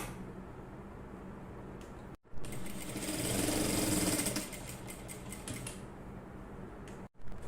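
Sewing machine stitching a round neckline without canvas, running steadily for several seconds with brief stops and restarts, close and alone with no talk.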